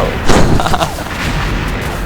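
Gunfire in the Xshot video game, a few loud booming shots close together near the start, then a rumbling tail of lower noise.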